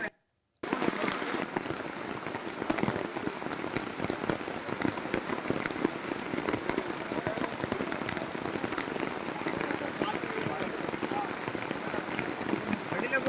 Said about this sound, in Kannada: ಕರಾವಳಿ ಭಾಗದಲ್ಲಿ ಅತಿ ಹೆಚ್ಚು ಮಳೆ ಆಗ್ತಾ ಇದೆ